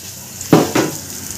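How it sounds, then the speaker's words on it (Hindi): Onion tipped into a hot frying pan, giving two quick clattering thuds with a brief sizzle after each, close and fairly loud, then quiet. "और ये प्याज अंदर चला गया"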